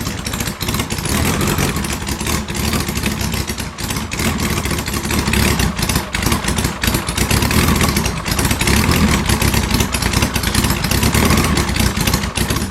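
A motorcycle engine runs loud and close, a rough, throbbing exhaust note with uneven pulses and slight rises in revs, continuing steadily with no voices.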